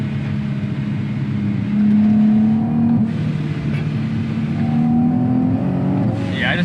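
Supercharged 2019 Nissan 370Z engine heard from inside while driving, a steady loud drone with rising revs that climb, shift and climb again, continuous throughout.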